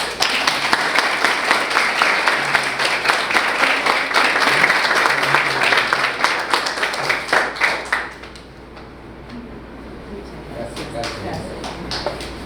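Audience at a diploma ceremony applauds loudly for about eight seconds, a dense clatter of many hands that fades out into quiet room sound with faint shuffling.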